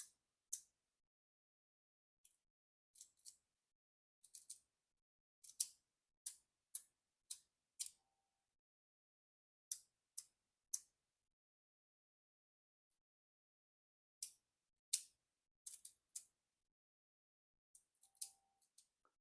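A small magnetic carbon fiber fidget clicker wrapped in Teflon tape gives sharp, faint isolated clicks, single and in quick pairs, scattered irregularly across near-silence.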